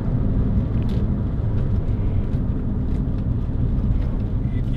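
A 2006 Toyota MR2 1.8 VVT-i roadster on the move gives a steady low road and engine rumble at even loudness throughout, with a voice briefly talking over it.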